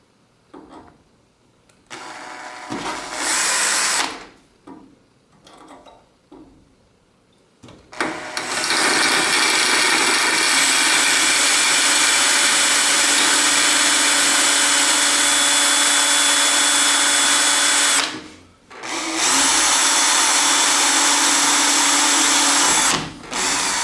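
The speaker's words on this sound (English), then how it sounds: "we can put the tap drill through." Power drill driving a tap drill through a Huskey cabinet drawer extender: a few short stop-start bursts, then a loud, steady, close whine that runs for most of the clip with one brief pause.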